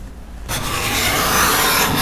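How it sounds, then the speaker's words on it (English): A hand scraper shaving a wooden board gives a loud, close, continuous rasping scrape that starts abruptly and runs unbroken without speech. "A scraper will not tear out regardless of the grain direction."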